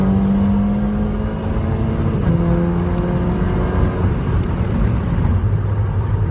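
A Volkswagen MKV GTI with a resonator-delete exhaust pulls hard on a highway from about 60 to 90 mph, a steady loud engine drone with the pitch stepping through gear changes, heard from inside the car.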